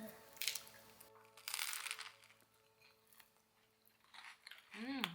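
Someone chewing and crunching food during a meal while on a diet, with short bursts of munching separated by pauses, close to the microphone; soft background tones and faint speech-like sounds are present.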